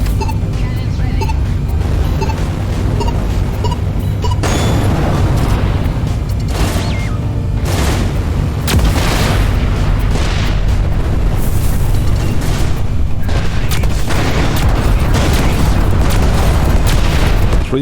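Spaceship cannons in Everspace 2 fire in a dense, continuous barrage of loud booms and blasts, one after another with no pause.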